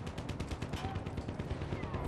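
Gunfire crackles across a Battlefield One match, a fast run of repeated sharp shots at moderate distance that continues steadily under a busy combat background.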